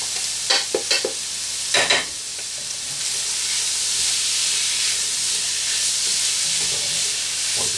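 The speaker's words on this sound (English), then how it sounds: "We're just going to keep stirring that up, getting everything going a little bit." Shallot, mushroom and meat stirred in a hot pan with rendered meat fat, a few utensil scrapes at first, then a steady close sizzle and hiss that carries on alone.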